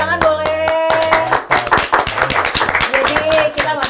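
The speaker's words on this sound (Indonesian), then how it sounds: "Tepuk tangan boleh." Studio audience on a live night talk show claps along, sharp handclaps mixed with upbeat backing music and a few voices, fairly loud and close.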